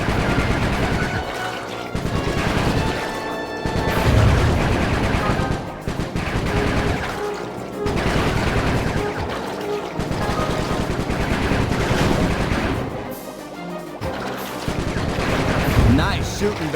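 Gunfire rattles in the Sly 3 video game, with rapid bursts of shots repeating in loud, dense volleys and short pauses between them, amid a busy game mix.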